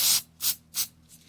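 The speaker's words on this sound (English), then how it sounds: "Take this stuff and spray the whole thing over" Aerosol lubricant is sprayed over an SKS rifle bolt in three short, close bursts, each a bright hiss, followed by a fainter fourth puff.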